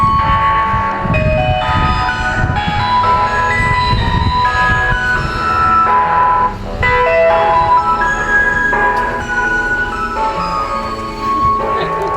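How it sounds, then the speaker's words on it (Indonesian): A garbage truck arriving on a street in Taiwan plays its loud, continuous electronic melody. The bright tune of repeating notes runs steadily for the whole stretch, with no talking. "di sini truk pengangkut sampahnya alhamdulillah udah datang"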